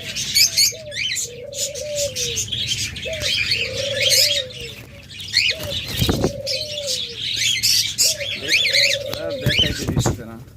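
Pet lutino budgerigars and lovebirds in a bird shop chirp and twitter in dense bright bursts, with repeated low dove coos alongside, and someone talks over them close by.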